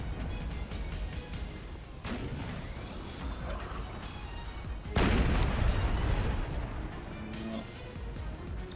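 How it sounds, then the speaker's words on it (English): Artillery booms out on a Napoleonic battlefield in a strategy game, with heavy cannon blasts at irregular intervals, the loudest near the five-second mark, over a continuous rumble and crackle of distant gunfire. "Artillery is just away, just firing what it can try and hit."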